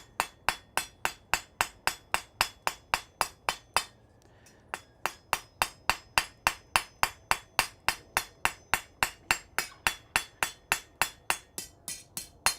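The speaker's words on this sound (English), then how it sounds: "If I stay just hitting in the same area and rolling" Steady, rhythmic blacksmith's hammer blows ring on metal in a smithy, about three per second, with a brief pause near the start before the even striking resumes.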